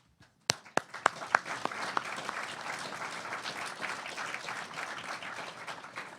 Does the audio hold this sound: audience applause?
yes